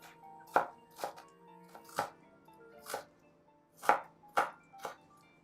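Garlic cloves being smashed on a chopping board for a stir-fried pork rib dish, seven separate dull thuds at an uneven pace, close and moderately loud, with quiet pauses between the blows.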